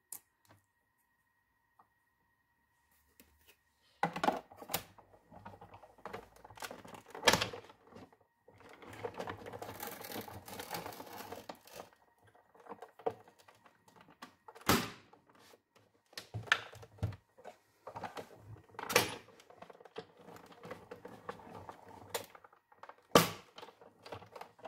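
Paper punch cutting paper, a run of loud, sharp mechanical thunks and clatters spaced irregularly over a quiet room, with a stretch of busier grinding in the middle.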